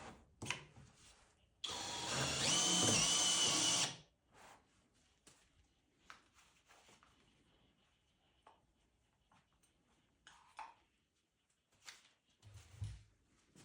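A hole cutter bores a plug out of cotton wool facade insulation in one loud, harsh two-second grinding burst, followed by quieter handling knocks and rustles.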